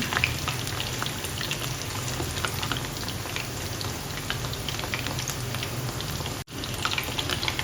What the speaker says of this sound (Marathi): तर अशा प्रकारे मी आता सर्व तळून घेते